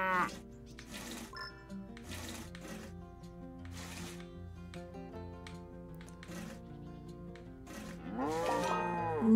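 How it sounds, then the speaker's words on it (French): Cow mooing in the farming video game Farm Land: several drawn-out, repeated moos with a low bellowing tone, set against looping game music with bright tones and a rising final call. "Oh, une petite vache."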